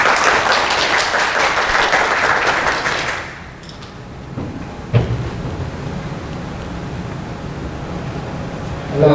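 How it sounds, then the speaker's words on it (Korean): Conference audience at PyCon APAC 2016 applauding to welcome a speaker, a dense, loud wash of clapping for about three seconds that fades into quieter room noise with a few stray sounds. "큰 박수 부탁드립니다."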